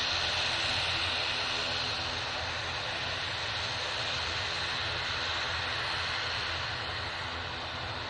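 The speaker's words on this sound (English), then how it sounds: "that's Cessna citation" A Cessna Citation business jet at an airport sends out a steady, broadband jet roar that holds even and fairly loud throughout, with no break or build.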